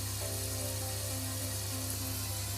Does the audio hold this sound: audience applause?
no